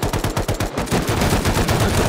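Automatic gunfire in the survival video game Rust, loud rapid bursts of shots in quick rhythm with a brief pause, then continuous dense firing, close and alone.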